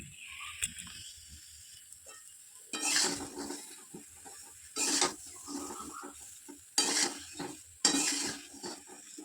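Oil-free mango pickle is stirred in a pan, with several distinct, fairly loud scraping strokes of a spoon against metal at irregular intervals and quieter stretches between them.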